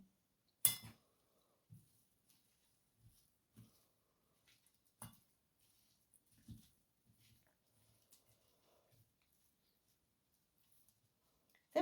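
A spoon stirs a seasoning mixture of chopped ingredients in a bowl, giving faint, sparse clinks and scrapes at irregular intervals with quiet gaps between, ending in a slightly sharper tap.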